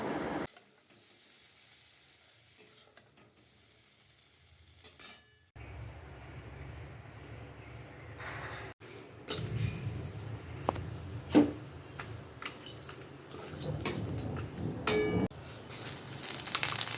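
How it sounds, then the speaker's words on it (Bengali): Paneer cubes frying in a pan with salt and turmeric crackle and sizzle. The sound starts quiet and grows louder and busier in the second half, with occasional clinks of a utensil against the pan. "এবার আমি পনিরগুলোকে একটু ভেজে নেব নুন হলুদ দিয়ে"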